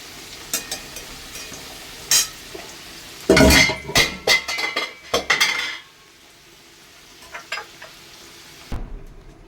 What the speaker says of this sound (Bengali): আলুটা ভাজা হয়ে গেছে। আমি এবার এটা তুলে নেব।